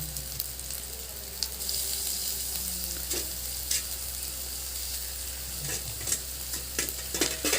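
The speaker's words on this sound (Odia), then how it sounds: "ଅଦା ରସୁଣ ଟିକେ ଭାଜି ହୋଇ ସାରିଲା ପରେ" Chopped ginger and garlic sizzle in oil in a pan after the onions have browned, with a steady soft frying hiss and occasional light stirring clicks.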